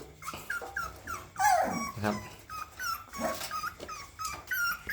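Dogs whimper and growl in a string of short, high, wavering cries and low rumbles, close to the microphone, with someone speaking briefly near the end.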